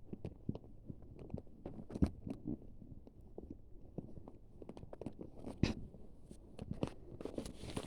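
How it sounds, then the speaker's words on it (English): Crinkly plastic packaging crunching and rustling in sparse, irregular bursts while new Victoria's Secret underwear is unpacked, close and quiet with no talking. "oh, and if you hear any crunching, that's me getting my"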